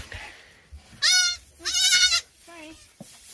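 A goat bleats loudly and nearby in a barn, two long wavering cries followed by a shorter, fainter one, with quiet background rustle between them.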